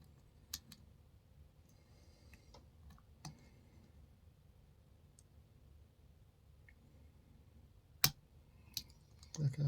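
Faint, sparse clicks from pins setting while a Hugo GTA38 lock is picked, a few sharp ticks scattered over quiet background hiss, with a louder click near the end.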